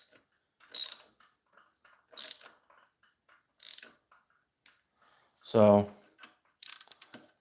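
Hand ratchet tightening the clutch pressure plate bolts on a Ford Focus ST during an ACT clutch install, giving several short clicking bursts and one louder, longer ratcheting sweep, close by, with a brief spoken word.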